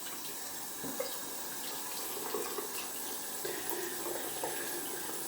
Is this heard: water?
yes